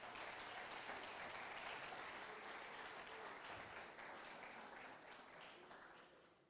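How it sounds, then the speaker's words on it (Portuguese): A church congregation applauds, a dense and even wash of many hands clapping at once that holds steady and then slowly fades near the end, with no voices standing out. "Pode dar uma salva de palmas aí"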